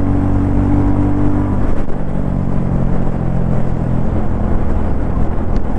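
A 2024 Royal Enfield Classic 350 motorcycle is ridden in third gear. Its single-cylinder engine gives a loud, steady, close drone with a low throbbing hum, and wind rushes past.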